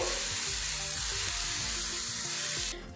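Carrots frying in a pan with salt give a loud, close, steady sizzle with stirring, continuing unbroken until it drops off abruptly at the very end, with no voices.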